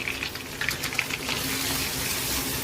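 Spiced potato mixture with chili paste, turmeric and red chili powder sautéing in a pan, a steady, moderate sizzle with soft crackles and light stirring scrapes.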